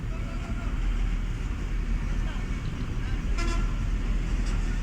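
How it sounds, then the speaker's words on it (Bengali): Busy, hazardous road with bikes and vehicles pulling away: a steady low engine and traffic rumble, broken by a couple of short horn toots near the end, with voices faintly present. "ওই তো বাইক গাড়ি শুরু হয়ে গেছে যাওয়া"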